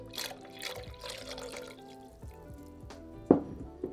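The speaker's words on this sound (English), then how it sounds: "we're gonna gradually add in 480ml, which is about 2 cups of full fat milk, while stirring with the whisk until combined" Full-fat milk is poured gradually into a roux in a pan while being whisked, giving faint, close liquid trickling and soft splashy strokes with a sharper clink near the end.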